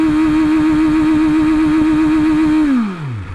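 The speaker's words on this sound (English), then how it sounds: "you'll get a really nice sound too when you hit that limiter like this" A BMW S1000RR motorcycle engine holds steady, loud and close, at its launch-control rev limiter with a rapid pulsing buzz, then the revs drop away sharply in the final moment.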